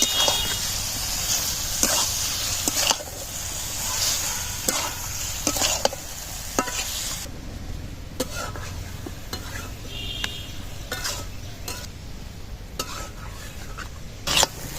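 Spoon stirring fish pieces through sizzling spice paste in hot oil for a Bengali fish curry, with repeated sharp scrapes and taps against the pan over a steady frying hiss.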